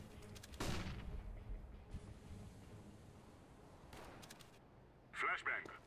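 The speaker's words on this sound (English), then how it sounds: "Throwing a flashbang." A flashbang grenade thrown in the video game CS:GO sounds as a sharp burst near the start, followed by a sustained noisy rush, with later softer clicks and bright high bursts. Speech is present.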